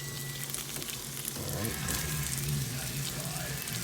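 A rolled rice cake sears in a hot pan for a yellow curry, giving a steady, close crackling sizzle with a low background hum and no speech.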